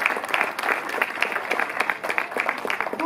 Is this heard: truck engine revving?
no